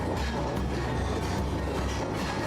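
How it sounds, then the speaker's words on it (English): A train rolling steadily along the Circum-Baikal Railway by Lake Baikal, with a low rumble and rhythmic clickety-clack of wheels over rail joints. "few more sounds of train rolling on Circumbaikal Railway"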